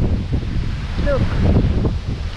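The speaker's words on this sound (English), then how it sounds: "That really bad wind." Strong typhoon wind buffets the microphone in a steady low roar during a storm in Angeles City, with a short whistling tone near the middle and rustling throughout.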